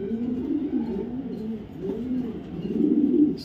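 Racing pigeons coo in a steady, low rolling murmur, fairly close and continuous, with no talk over them.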